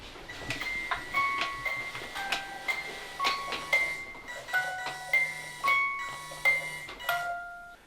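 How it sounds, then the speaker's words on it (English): A tinkling music box plays a slow, steady melody of bright plucked notes inside a reputedly haunted murder house, the tune alone with faint room hum beneath. "I'm gonna turn on the music box."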